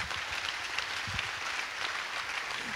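An audience claps at a university technology week gathering, a dense, even wash of applause from many hands. It holds steady throughout and is heard from some distance in a large room.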